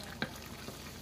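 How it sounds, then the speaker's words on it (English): Shrimp and chorizo paella simmers quietly in a pan while a utensil stirs it, giving one faint clink and a softer scrape over a low bubbling hiss. "boiling here, so just occasionally stirring"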